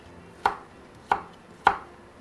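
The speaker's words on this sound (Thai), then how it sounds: "ข่า ค่ะ หั่นประมาณ3 แว่น 3 แว่น แล้วก็ทำให้มันเล็กลงหน่อย" A knife cuts through galangal on a chopping board in three sharp, evenly spaced chops. Each chop is close and crisp, and no voice is heard.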